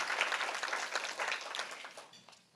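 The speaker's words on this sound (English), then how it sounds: "Please give her a round of applause" Applause from a luncheon audience honoring a Manatee County District 1 county commissioner, a dense patter of many hands clapping close by that starts full and tapers off over a couple of seconds.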